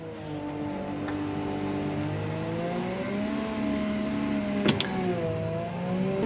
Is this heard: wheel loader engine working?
yes